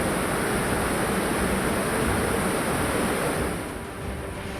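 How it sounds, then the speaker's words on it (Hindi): Flooded river water surges loudly and continuously into Tapkeshwar temple in Dehradun during monsoon cloudburst flooding, a dense steady roar of rushing water close by, easing slightly near the end, with no voices. "उफनती नदी ने अपनी हदें तोड़ दी और उसका पानी मंदिर में घुस गया"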